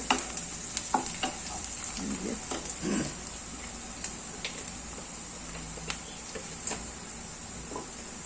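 Garlic frying in mustard oil alongside marinated chicken for a chicken curry, a faint, soft sizzle with scattered light clicks and scrapes of stirring, no voices over it.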